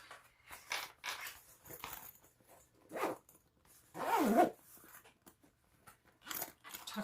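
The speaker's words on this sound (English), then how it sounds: "The zipper, the zipper pulls are just so noisy." Zipper pulls on a sewn Bartleby sling bag rasp in several short, separate bursts, with one longer, louder pull near the middle, close by in a quiet room.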